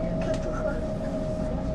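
A train runs in Munich, a steady low rumble with a sustained mechanical hum under a brief voice announcement.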